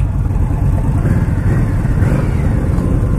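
An Indian Scout Sixty motorcycle with a 68 or 69 cubic inch engine idling close by, a loud, steady, low rumbling throb with no voices over it.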